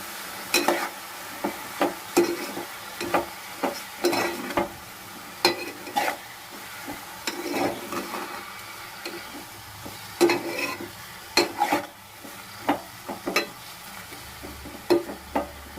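Keema curry frying in a pan is stirred steadily, with repeated scraping strokes of a spoon against the pan over a soft, continuous sizzle and no voices.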